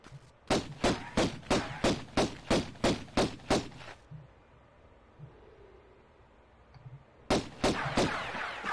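Gunfire in the 1996 video game Tomb Raider: a rapid, evenly spaced run of about a dozen loud shots, a pause with faint low thuds, then another burst of several shots.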